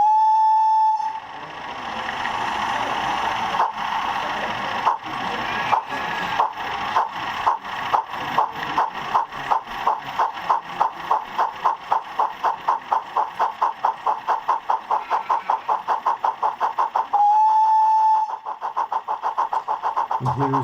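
A Sunningwell Command Control sound chip fitted in a model railway Terrier locomotive sounds a short whistle, then chuffs that start slow and quicken into a rapid steady beat over a running hum, ending with another whistle.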